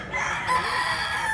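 A white leg bullstag rooster crows once nearby, a short strained call standing out clearly against faint background noise.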